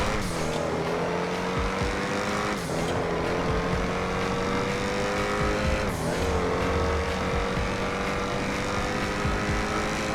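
A car in a roleplay video game drives steadily with a loud, continuous engine drone that shifts pitch gradually, joined by a few brief sharp whooshes.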